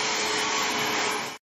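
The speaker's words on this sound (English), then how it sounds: "Then vacuum the tops of the cushions." A small portable vacuum cleaner runs steadily and loudly up close while cleaning the cushions of a pool table, a continuous airy whine that cuts off abruptly at the end.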